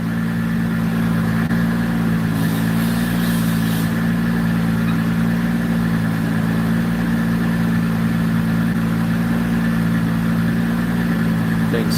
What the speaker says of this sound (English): So crazy. Sounds so good on the dyno.